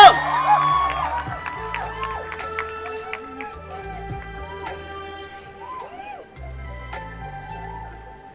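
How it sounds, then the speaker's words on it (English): A crowd at a photography festival award ceremony applauds and cheers for a winner, with whoops and shouts ringing out loudly at first and then fading under background music. "Can you all make a round of applause for her and shout for her?"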